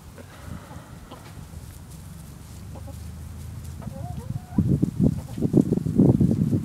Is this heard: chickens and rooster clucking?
yes